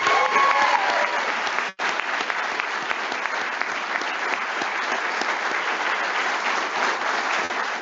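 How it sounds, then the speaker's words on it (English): A round of applause for Tyree at a naval change of command ceremony, steady dense clapping from a large crowd lasting several seconds, with one brief dropout early on. "Can I get a round of applause for Tyree here real quick?"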